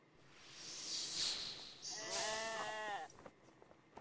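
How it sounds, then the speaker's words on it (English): A sheep in the video game RuneScape bleats twice, a breathy call followed by a longer wavering one, fairly faint and alone. "It sounds more like a sheep. Oh, wait, there are sheep."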